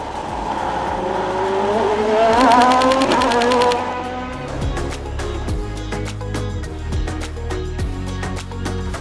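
A Ferrari 458 Spider sports car drives at speed, its engine note rising loud and strained before settling into a steady, nearer rumble, with sharp clicks and rattles from the chase vehicle over the top.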